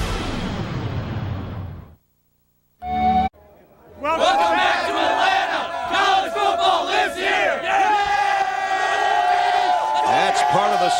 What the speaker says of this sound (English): these people are cheering for me, pal